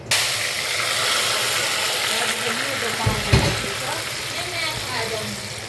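Onions sizzle steadily in about a cup of hot oil for chicken biryani, a continuous bright frying hiss that runs throughout with a brief low knock partway through.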